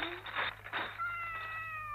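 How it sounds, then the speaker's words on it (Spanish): A cat meows loudly and close by, two drawn-out, rising-and-falling calls in quick succession, the second trailing off into a thin whine, heard alone in a quiet room. "¡Maldito gato!"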